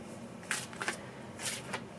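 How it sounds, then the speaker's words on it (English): Deck of cards being shuffled, with a few soft riffling bursts in quick succession, close and quiet, no one speaking. "So, one more shuffle here."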